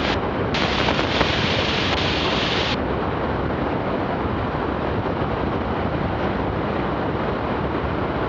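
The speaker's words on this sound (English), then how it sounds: "Quite a bit of wind down here blowing me." Strong crosswind buffeting the microphone during the approach and landing of a Zenith STOL CH 750 Super Duty light aircraft, a loud, steady roaring rush of wind noise that never lets up.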